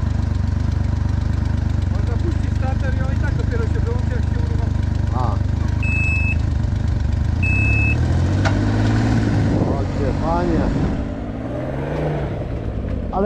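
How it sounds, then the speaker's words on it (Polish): A car engine cranks, catches and settles into a steady idle, loud and close, with people talking over it. "Można puścić starter i on i tak dopiero się wyłączy, jak się uruchomi."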